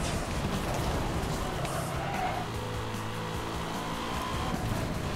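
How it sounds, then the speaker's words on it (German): A racing car speeds flat out in Need for Speed Hot Pursuit, engine roaring loud and continuous with tires squealing and skidding through the run. "Boah, das Auto geht voll echt richtig krank ab."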